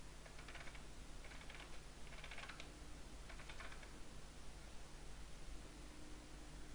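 Computer keyboard keys are pressed in a few short bursts of clicks during 3D modelling work, faint beneath a steady hiss of background noise.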